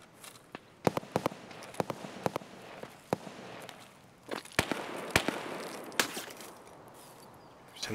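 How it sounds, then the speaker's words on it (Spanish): Gunshots ring out in Escape from Tarkov on the Customs map, a series of sharp cracks scattered across several seconds with irregular spacing, some close and loud, others fainter, over a background of footsteps and movement noise. "Están disparando."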